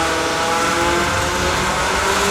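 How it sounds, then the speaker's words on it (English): Car engine held at high revs on a dyno after an aftermarket intake install, a loud, steady, continuous roar with no pauses and no talking. "so our intake is installed, and we went ahead and calibrated that, so time to dyno"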